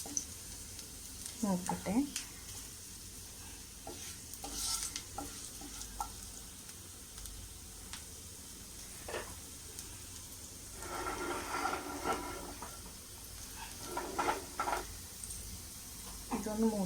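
Chopped garlic fries quietly in a pan and is stirred, giving soft intermittent sizzling and scraping bursts, while a voice speaks briefly nearby.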